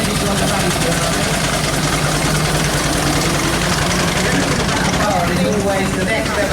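Steam traction engine running at the Sussex Steam Fair at Parham, a loud, close, steady low mechanical chug and rumble that holds constant throughout, with a voice talking over it.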